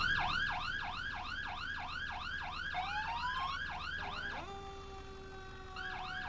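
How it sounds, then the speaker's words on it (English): An emergency vehicle siren in a Roblox Florida roleplay game at a large building fire wails in rapid, repeating yelp cycles, then shifts into long steady tones, clear and alone. "The sirens are still on."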